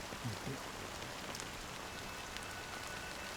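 Drizzling rain in the video game Honkai: Star Rail, a faint, steady patter of fine raindrops on surfaces, continuous and soft with no voices.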